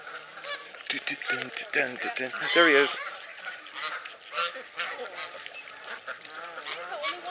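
Ducks squabbling on a pond, with repeated loud honking quacks and harsh calls tumbling over each other in bursts, while people nearby talk over and between the calls.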